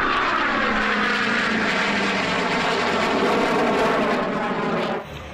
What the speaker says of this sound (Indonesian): Kalau yang ini pesawat capung teman-teman.